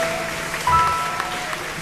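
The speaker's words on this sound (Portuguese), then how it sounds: "Pode aplaudir o nome do Senhor com alegria," A church congregation applauds during a worship service, a brief steady patter of clapping in a large room, with a sustained organ or keyboard tone underneath.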